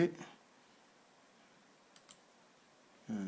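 A mouse gives two quick, faint clicks close together while confirming OK in software, in a quiet room, with a voice speaking briefly just before and after.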